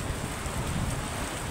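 Steady rain pours down outdoors as a continuous, even hiss with no break and no voices.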